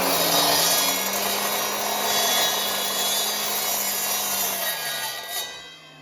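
Handsaw cutting through Douglas fir in a garage workshop, a steady rasping, rubbing stroke close by and loud, continuing for about six seconds before tailing off.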